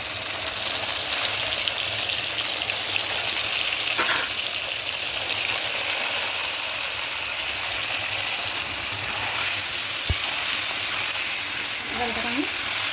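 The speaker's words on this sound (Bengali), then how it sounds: "এবার আমি এই মাছে মশলা মাখানো এটা কড়ার মধ্যে দিয়ে দিচ্ছি।" Spice-coated Bombay duck (loitta) fish sizzles steadily in hot oil in a wok, a loud, continuous close-up hiss with a brief metallic tap partway through.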